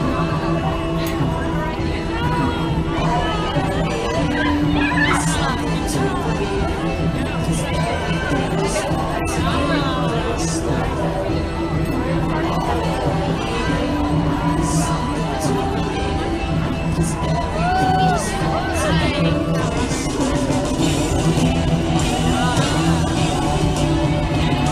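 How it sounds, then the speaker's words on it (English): Spectators at the Nashville Half Marathon finish line cheer and whoop as runners come in. A dense, continuous crowd hubbub runs throughout, with speech and chatter mixed in. "A young spectator cheering her on"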